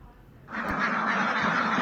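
Dense, loud quacking of a large flock of ducks on a duck farm starts abruptly and continues without a break.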